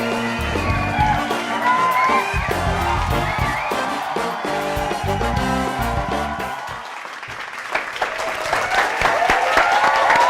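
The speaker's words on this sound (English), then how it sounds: "Oh, what a lively crowd." A lively studio audience at a variety talk show claps and cheers steadily, a dense burst of applause with whoops that dips briefly and then swells again near the end.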